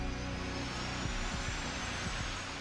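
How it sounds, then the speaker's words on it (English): J-58 jet engines starting up on the ground, a loud steady roar with a low rumbling whine that holds constant and close for a couple of seconds, no talk. "A shot of triethylborane gas ignites the fuel, and the J-58 engines are started."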